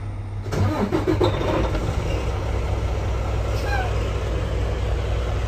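A Volvo truck diesel engine cranks briefly and catches, then settles into a steady low idle heard from inside a quiet cab, with a faint hiss of air building up.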